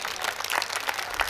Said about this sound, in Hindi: एक बार पीछे तक दोनों हाथ उठा करके तालियां बजाइए